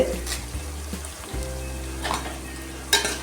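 Curry leaves sauté in a pan for chicken gravy, a soft continuous sizzle with a low hum underneath and a few stirring scrapes and clinks.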